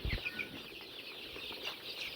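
Chickens on a small poultry farm raising Sonali and brown cock birds cluck and chirp in soft, scattered bursts, with a low steady hum of the flock underneath and no voices.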